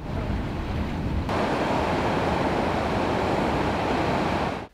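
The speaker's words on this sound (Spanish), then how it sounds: "El oleaje y el viento han sido los otros protagonistas de esta jornada, dejándose notar con intensidad durante toda la mañana" Storm waves and strong wind batter the coast of Ceuta during storm Filomena, a dense, continuous roar of surf and gusting air that stays loud and close throughout with no voices.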